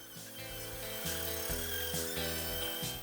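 A tool strips paint off bare metal on a Chevy van chassis before welding, during a swap onto an International Loadstar chassis. It gives a continuous, close, loud grinding whine that shifts pitch as the load changes, with no talk.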